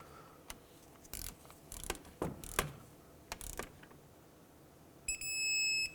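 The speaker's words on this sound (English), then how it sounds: "I'll bottom them out and torque them to 25 foot-pounds" A torque wrench tightens front caliper bolts on a 2001-2007 Toyota Highlander to 25 foot-pounds, giving a run of sharp metallic clicks and ratcheting taps close by, followed by a short electronic beep near the end, with no speech.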